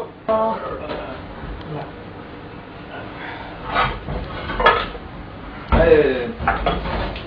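Kitchen pans and vessels handled while getting ready to roast semolina, several metallic clanks and knocks in separate bursts, with people talking throughout.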